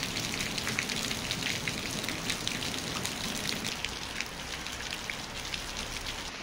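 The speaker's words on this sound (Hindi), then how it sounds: "दोस्तों बारिश तो शुरू हो चुकी है बहुत तेज" Heavy rain pours steadily at a campsite near Yamunotri in the Himalayas, a dense, unbroken hiss of drops drumming on surfaces and tent fabric, close and constant with no voices.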